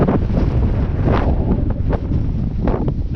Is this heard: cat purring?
no